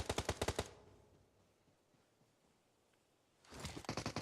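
An MG3 machine gun in PUBG Mobile fires two rapid rattling bursts, one at the start and another near the end, separated by a quiet gap and heard with no talking.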